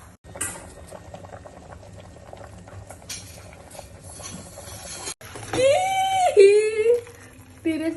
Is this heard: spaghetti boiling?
yes